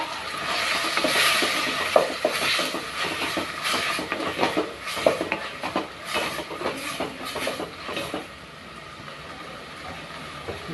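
Onions and masala with curry leaves sizzling and being stirred in a pan for a chicken gravy, with steady broadband frying hiss and intermittent scraping clicks throughout, quieter toward the end.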